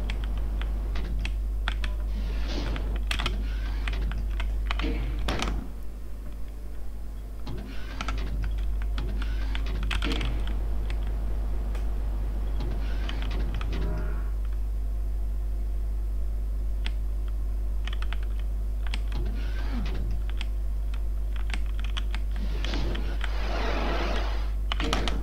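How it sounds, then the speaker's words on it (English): Computer keyboard typing during a Doom: Favillesco session, with scattered clusters of clacking keystrokes in irregular bursts over a constant low hum, close and fairly clear throughout. "That was my keyboard again."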